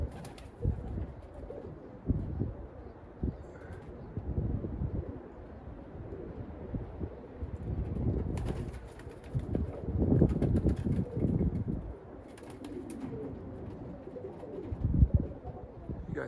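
Flock of pigeons near their coop on a windy day, soft low cooing scattered throughout with flapping bursts and gusts of wind buffeting the microphone.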